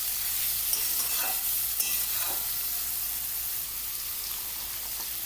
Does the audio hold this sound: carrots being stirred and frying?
yes